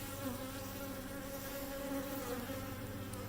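Honeybees buzz steadily around an open Flow Hive during an inspection, a continuous close drone of many insects with no voices.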